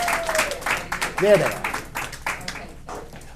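An audience at a team meeting gives scattered, moderate applause as panel members come up, with uneven claps and cheers mixed with a voice speaking and a brief whoop.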